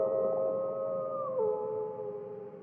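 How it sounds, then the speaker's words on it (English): A wolf howls in a Halloween story setting, one long sustained tonal howl that dips in pitch partway through, loud and close with no speech over it. "Will someone please feed that darn wolf? He keeps interrupting me"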